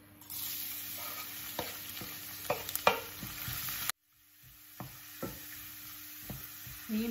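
Garlic fries in oil with a close, steady hiss and a scatter of scraping stirs, cut briefly midway before the frying continues more quietly.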